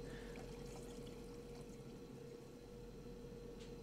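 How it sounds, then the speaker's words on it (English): Liquid pours steadily in a Brewmaster beer simulator game while 150 grams are measured out, a faint continuous trickling wash under a constant electrical hum, without any talking. "Alright, pour 150 grams."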